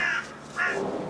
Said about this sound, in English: excuse the bird noise